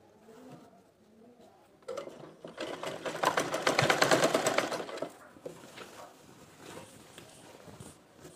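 A sewing machine runs in a steady whirring burst as it stitches elastic onto a salwar waistband, starting after a quiet lead-in, swelling loudest in the middle, then easing to softer intermittent stitching, with birds cooing in the background.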